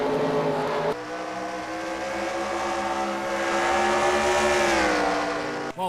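NASCAR Nationwide Series race cars in a video game roar off the line at the green flag start at New Hampshire, a loud, continuous engine howl whose pitch climbs as the field accelerates, with no talk.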